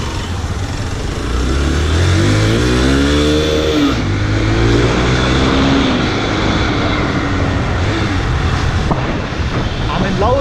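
A Hero XPulse 200T, a 200cc motorcycle, revs and pulls with rising and falling engine pitch, loud and close as it accelerates through gears, while someone talks over the engine.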